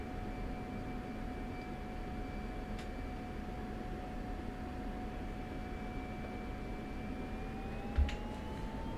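F-16 jet in the DCS flight simulator on the runway for takeoff, a steady broadband engine roar with a thin sustained whine that climbs in pitch near the end, where a brief thump sounds.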